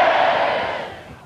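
A large outdoor crowd shouts back a loud answer in unison, a broad burst of voices that fades over about a second.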